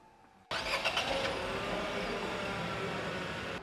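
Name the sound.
Nissan Magnite car engine starting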